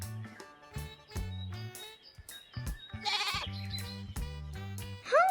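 A stubborn goat bleats several times in short, wavering calls separated by brief gaps, close and clear, with a few bird chirps mixed in.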